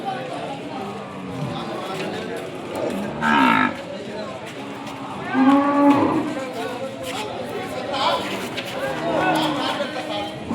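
At a weekly cattle market in Kodad, Ongole calves moo several times at close range, with short bleating calls scattered over a steady murmur of people talking and farmyard noise.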